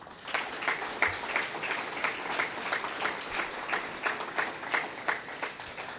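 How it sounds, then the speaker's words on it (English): Guests at an early college graduation breakfast give a round of applause, a dense stretch of clapping from a seated crowd that carries on evenly throughout at moderate level. "give a huge round of applause for all of the generous individuals and organizations that helped to make that success possible"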